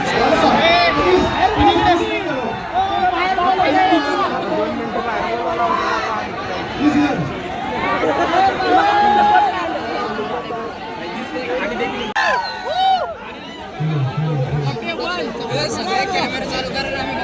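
A dense crowd of fans at a hero event in Pune, chattering and shouting all at once, a loud close hubbub of many voices with occasional whoops.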